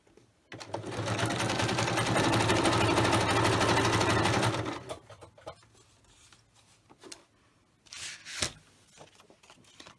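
Sewing machine stitching a paper Christmas journal insert with flip-outs, a steady loud whirring run of about four seconds, then stopping, followed by quieter paper handling and a brief rustle near the end.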